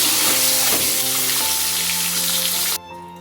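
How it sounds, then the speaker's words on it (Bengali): Eggs fry in oil in a wok, seasoned with salt and turmeric, giving a loud, steady close-up sizzle with a low cooking hum that cuts off sharply near the end. "ডিমগুলো ভেজে নিচ্ছি।"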